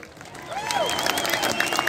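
An audience at the Qurum Amphitheatre in Muscat claps and cheers during a mimicry show, a brief swell of crowd applause that builds over two seconds, with a whistle-like rising tone near the start.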